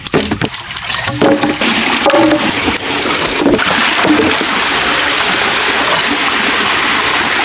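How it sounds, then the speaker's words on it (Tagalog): River water pours through an opened sluice gate into a fishpond, a continuous broadband rushing and splashing that stays loud and steady, with a few knocks and clatters near the start and no talking. "Ayan, pumapasok na po ang tubig sa ilog papunta dito"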